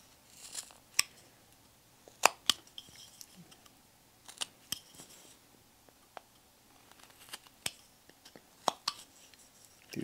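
A whittling knife cuts into wood while an angel figure is carved, making short, sharp, scattered scraping snicks close by against a quiet background.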